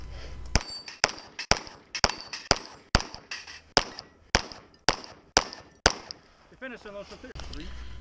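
A rapid string of about a dozen sharp, close pistol shots at steel popper targets during a shooting match, each crack followed by a brief ringing clang, spaced roughly half a second apart before a short pause and a final shot.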